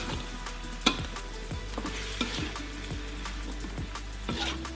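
Cabbage frying in a pan for an Indonesian stir-fry, loud continuous sizzling with regular scraping stirs of a spatula at close range, no voices.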